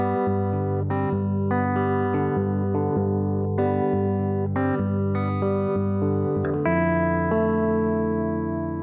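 Electric guitar plays four bars from a song, sustained chords ringing steadily with slight effects colouring, alone and close for the whole stretch.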